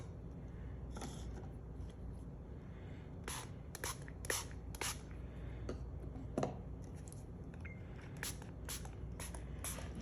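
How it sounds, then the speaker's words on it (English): Quiet, short bursts of ink spraying from a spray bottle onto paper, a dozen or so hissy puffs spread irregularly over soft background noise. "You just have fun spraying different inks."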